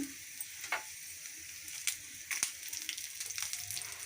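Dried red chillies fry in oil with a quiet, faint sizzle, broken by a few sharp pops and spatula scrapes against the pan.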